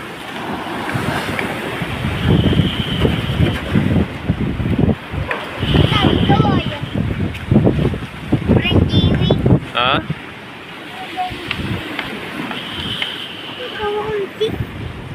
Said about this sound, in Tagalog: Napakalakas ng dagat.